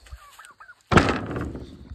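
A wild chicken in a backyard with rabbit cages: faint brief calls first, then one loud, harsh, close squawk that trails off raggedly.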